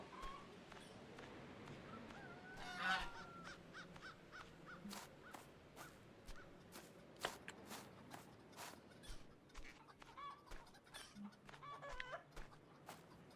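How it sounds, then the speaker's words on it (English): A goose honks among farm birds near a small enclosure shared with chickens, giving repeated harsh calls and clucks at moderate distance over a faint background hum. "It's that frickin' goose I saw before."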